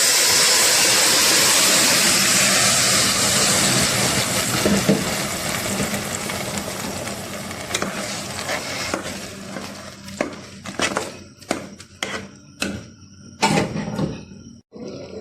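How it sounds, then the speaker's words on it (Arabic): Tomato sauce poured onto hot caramelized sugar: a loud, dense hiss and roar of sizzling that slowly fades, giving way to scattered clicks and clatters of a utensil near the end. "كده السكر الكرمل هنزل عليه بقى بالصلصة"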